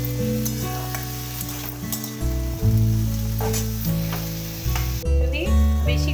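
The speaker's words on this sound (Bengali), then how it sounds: "এবার সমস্ত সবজিগুলো দিয়ে দিলাম, একটু ভালো করে হালকা করে ভেজে নিচ্ছি" Mixed vegetables stir-fried in a pan with soy sauce for restaurant-style chilli chicken give off a loud, steady sizzle with stirring scrapes, over a continuous tonal backdrop.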